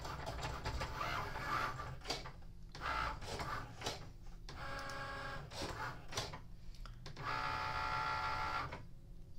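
A Cricut cutting machine slices paper for paper flowers, its motor whirring in steady bursts with short pauses between passes, fairly close and unbroken by talk.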